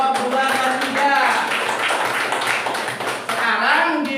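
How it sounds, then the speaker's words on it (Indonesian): Classroom applause for a student group, with a spread of hand claps and taps from the class mixed with a voice talking over them. "Tepuk tangan sekali lagi untuk kelompok 2 dan"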